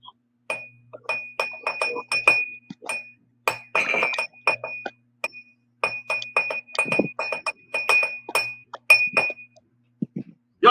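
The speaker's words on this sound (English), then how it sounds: "So I'm going to play my glass, and you're going to play your pencil" A drinking glass is struck and played as an instrument in a simple children's music session, giving a run of bright, ringing clinks in irregular rhythmic bursts with short pauses between them, each tone decaying quickly.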